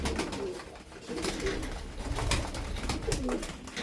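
Sport Tippler pigeons, a family group of about nine birds, coo repeatedly in low rolling calls, close and fairly soft, with shuffling background noise and no talk.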